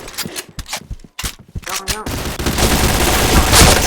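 Rapid bursts of video game gunfire from a team shooter, close and loud, with sharp separate shots early giving way to a dense continuous fusillade near the end, under game voice announcements.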